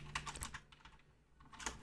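A command is typed on a computer keyboard: a short run of close key clicks, a brief pause, then a few more taps, with no talking.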